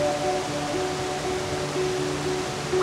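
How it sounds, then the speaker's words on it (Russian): A raging waterfall cascade gives off a steady, broad rushing wash of falling water at moderate loudness, continuous and unbroken, with no voices. "Пойти по краю бушующего водопада"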